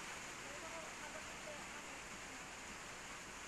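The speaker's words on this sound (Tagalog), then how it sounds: "Lagi na lang naulan." Rain falling outside makes a steady, faint, broadband hiss with no breaks for a few seconds.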